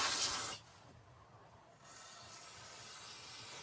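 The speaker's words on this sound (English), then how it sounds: "I'm going to want to go ahead and spray this down with brake clean one last time" Brake cleaner sprays from an aerosol can onto a Dodge 318/5.2 engine timing cover: a loud hissing burst, a short pause, then a steadier, quieter continuous hiss.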